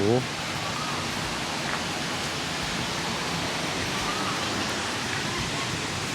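Steady broadband rush of a waterfall at Phaya Yen campsite, a constant wash of falling water filling the scene from start to finish, with a brief louder touch at the very beginning.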